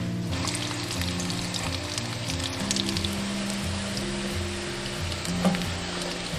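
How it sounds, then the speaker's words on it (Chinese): A radish pancake fries gently over low heat, giving off a soft, even sizzle with faint popping that carries on throughout without any talk. "煎的话就是全程小火，一定要把这个萝卜饼给它煎熟。"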